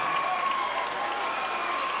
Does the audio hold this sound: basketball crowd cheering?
yes